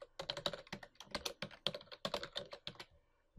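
Someone types a username and password on a computer keyboard: a quick, irregular run of crisp key clicks, close and clear, stopping abruptly near the end with a brief quiet tail.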